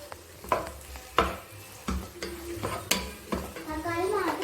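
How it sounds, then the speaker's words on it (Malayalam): Tomato stirring and sizzling in a pan for chicken curry, with several distinct scraping stir strokes over a steady frying hiss, close up. "അപ്പോൾ ഇനി നമ്മൾ ഇതിനകത്തോട്ട് കുറച്ച് തക്കാളി ഇട്ട് കൊടുക്കണം"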